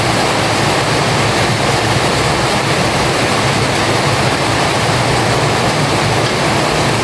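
Heavy rain pours down in a loud, dense, unbroken roar that stays constant from start to finish.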